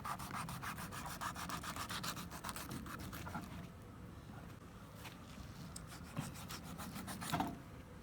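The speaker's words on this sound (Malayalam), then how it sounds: "ഒന്ന് ഇതിൻ്റെ ചിറകൊക്കെ ഒന്ന് കട്ട് ചെയ്തെടുക്കാം." Fins are cut off a whole fish with a blade, giving faint, close scraping and rasping strokes in quick repeated runs, ending with a few sharper rubs.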